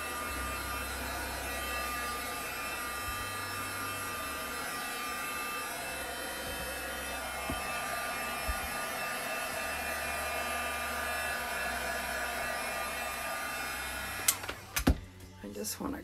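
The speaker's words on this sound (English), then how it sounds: "I should just use my hair dryer." A hair dryer blows with a steady, loud whirring hum that continues without a break, ending with a few clicks and knocks.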